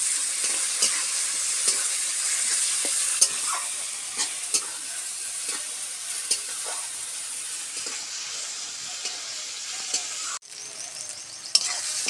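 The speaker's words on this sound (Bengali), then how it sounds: "তেলেতেই শুধু মশলাটা আমি আগে ভেজে নেব।" Spices fry in hot oil while being stirred, giving a continuous bright sizzle with small scraping knocks from the spoon and a sharper clatter near the end, with no talk.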